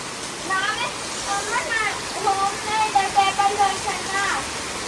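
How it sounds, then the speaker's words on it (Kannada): Heavy rain pours steadily outdoors in a dense, even hiss that fills the whole clip, while a voice talks over it throughout. "ಮಳೆ ನೋಡಿ ಎಷ್ಟು ಜೋರಾಗಿ ಬಿಟ್ಟೈತೆ"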